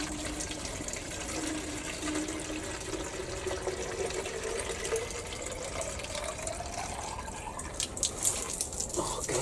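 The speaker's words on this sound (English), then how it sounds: "Right, what I need is a watering can." Water pours from a small watering can in a tight indoor space, a steady splashing, trickling stream that rises in pitch as it fills, with some scattered knocks near the end.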